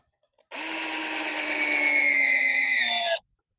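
A power drill driving screws into kennel flooring whines steadily for about three seconds, its pitch rising slightly as it drives in, then stops abruptly.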